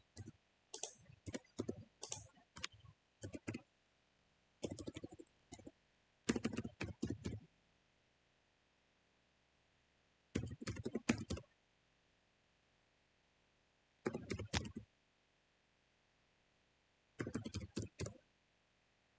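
Typing on a computer keyboard in short bursts of quick, close clicking keystrokes, separated by several seconds of near silence.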